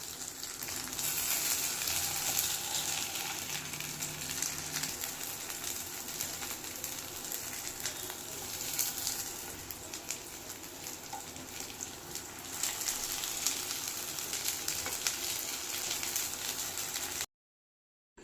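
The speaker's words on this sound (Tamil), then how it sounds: "ரெண்டு சைடுமே நல்லா கோல்டன் ப்ரௌன் கலர் வர வரைக்கும் நல்லா நம்ம இந்த மாதிரி ஃப்ரை பேன்லேயே வச்சுருக்கலாம்" Chickpea cutlets fry in a pan over a medium flame, giving a steady, even sizzle and crackle that holds throughout before cutting off abruptly at the very end.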